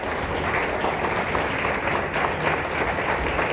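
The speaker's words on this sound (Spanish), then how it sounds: "¿Cuántos le dan un aplauso al Señor?" A church congregation applauding together: dense, steady, fairly loud clapping that fills the room without letup for several seconds, with no voices standing out.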